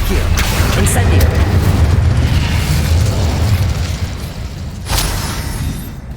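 A fiery Incendio spell blast from a Harry Potter video game, a loud, rumbling burst of flame that fills the clip with a dense low roar, swelling again near the end with a sharp crackling flare.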